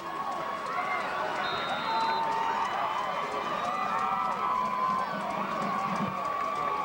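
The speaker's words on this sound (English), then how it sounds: "Crowd all into it now for the Vikings." High school football crowd cheering for the Vikings, a dense sustained roar of many voices with shouts rising and falling, loud and continuous throughout.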